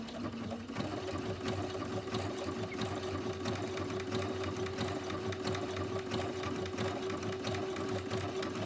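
Domestic sewing machine stitching quilt template pieces together, a steady fast motor whir with rapid needle clatter running continuously and close throughout, with no talk over it.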